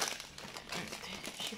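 Plastic bags of frozen vegetables crinkle and rustle as they are handled up close, a continuous papery crackle with irregular sharper crackles spread across the short stretch.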